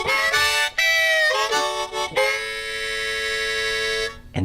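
Harmonica notes drawn by inhaling, sustained reedy chords with short breaks between them, played close and alone.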